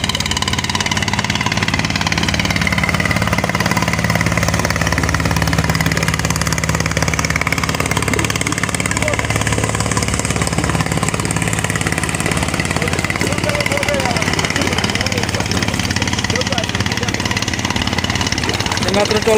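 A trawler boat engine chugs past on a broad river with strong waves, a loud steady mid-pitched drone running throughout with a constant throb.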